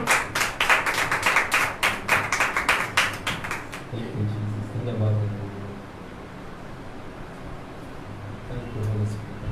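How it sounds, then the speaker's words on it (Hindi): Rhythmic, loud unison clapping from a church congregation at a healing service, about a dozen beats over four seconds, then fading into murmuring voices and room noise. "जोरदार तालियों।"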